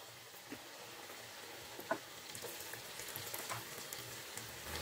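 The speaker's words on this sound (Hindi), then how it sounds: "अभी जो पकौड़ा का बैटर तैयार किया फ्राई होने के लिए रख देती हूँ।" Mushroom pakora batter sizzles in hot oil, a soft, steady crackle with faint spatter throughout and one sharper pop about two seconds in; no voices.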